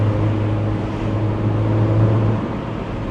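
A Mini Roadster John Cooper Works climbs a hill climb road, its engine a steady, loud droning hum heard from inside the car, the pitch holding almost level before easing slightly near the end, with no talking.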